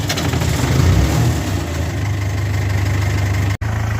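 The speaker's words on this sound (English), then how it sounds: "Now that's how I do the cold start." A farm tractor engine just after a cold start, revving briefly under throttle before settling into a loud, close, rumbling idle.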